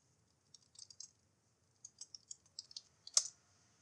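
Quiet typing on a computer keyboard, two short bursts of light clicking keystrokes separated by a pause, ending with a single sharper key press, close and faint.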